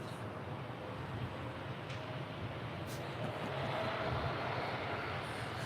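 A Southwest Airlines jetliner departing LAX for Kahului makes a steady, moderately distant engine rumble with a faint whine, continuous from start to end without talk.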